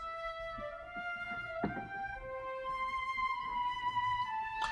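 Two flutes layered with an oboe play sustained, overlapping melodic lines in a soft orchestral texture, steady and moderately quiet with no voices.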